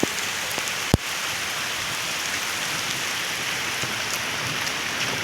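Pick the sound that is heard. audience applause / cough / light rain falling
light rain falling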